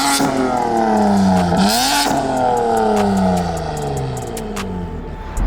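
BMW G82 M4 accelerating hard, a loud close engine roar climbing through gears with sharp rising pitch and a quick shift break, then continuing to pull strongly with faint clicks and rattles.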